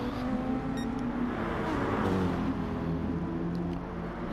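Racing car engines from a BMW and an Audi in Gran Turismo at the Nürburgring GP circuit, a steady loud droning roar that swells and fades slightly as the cars run close together.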